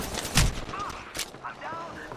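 Rapid gunfire in the Apex Legends battle royale game, several sharp shots fired in quick succession amid busy game effects, with a player talking over the action.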